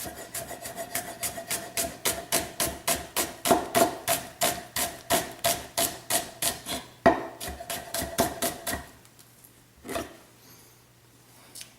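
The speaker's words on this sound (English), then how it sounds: "Okay, we're going to take that, we're just going to julienne, thin strips" A knife cuts a sweet onion into thin julienne strips on a board, giving a fast even run of close, crisp chopping knocks that stops abruptly, followed by a couple of softer taps.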